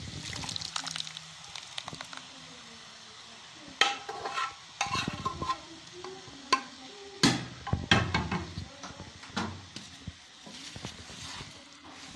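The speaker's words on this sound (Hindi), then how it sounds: "इसे बराबर आप चम्मच हिलाते रहना और इसको बिल्कुल खुश्क कर लेना" A spoon scrapes and clanks in a pan of carrot halwa (gajrela) with milk, irregular stirring knocks and scrapes over a soft simmering bubble, fairly quiet and close.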